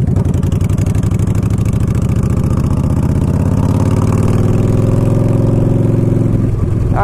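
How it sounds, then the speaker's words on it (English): Modified, non-stock 2015 Yamaha Stryker motorcycle engine idling loudly and steadily up close, a deep continuous rumble with a lumpy, uneven beat and slight rises in pace, heard alone. "2015 Yamaha Stryker. It's modified. It's not stock."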